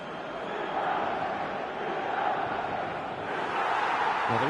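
A stadium crowd in the eFootball soccer game keeps up a steady, broad roar of cheering. It swells and dips slightly and carries on throughout at a fairly loud level.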